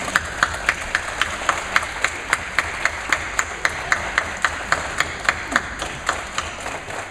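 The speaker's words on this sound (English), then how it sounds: "Please join me in applauding your parents." Audience at a Wilson School ceremony clapping for parents, a fairly sparse, rhythmic applause with distinct individual claps recurring steadily over several seconds in an indoor space.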